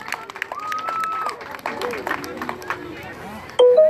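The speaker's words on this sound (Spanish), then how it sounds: "Un aplauso, por favor." Crowd at a kite festival on Cerro de la Estrella claps in a steady burst of applause lasting several seconds, with some crowd chatter mixed in and a brief louder noise near the end.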